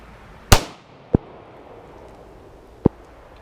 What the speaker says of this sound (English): Let's just do some shooting here and see how we can do.